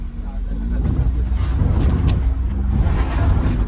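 A car climbs a rough slope out of a dried-up water crossing in the village countryside, its engine rumbling low and steady up close while people talk over it.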